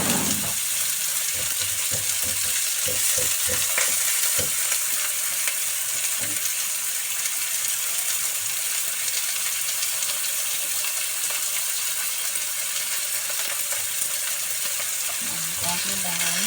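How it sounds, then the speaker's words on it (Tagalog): Fish frying briefly in a pan for tomato fish soup gives a steady, loud broadband sizzle through the whole stretch, with a few soft knocks of stirring early on and no talking. "Ang dahilan kung bakit pinipirito saglit yung isda, para yung sabaw ng soup maging kulay puti."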